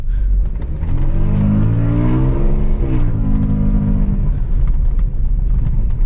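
An Audi A6 with an automatic gearbox drives and accelerates, its engine note climbing steadily under a constant loud cabin and road roar, with no talking.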